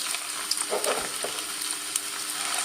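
Finely chopped ginger frying in hot oil, a loud, continuous sizzle with occasional bubbling crackles, up close and without any talking.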